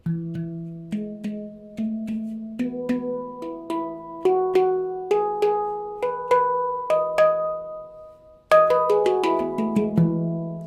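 Melodic Generation 7 NovaPans handpan played alone, ringing metallic notes struck one after another in a slow rising-and-falling pattern, each tone sustaining with bright overtones.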